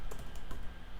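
Several quick keystrokes tapped on a computer keyboard, close and clear, in a short burst with no talking.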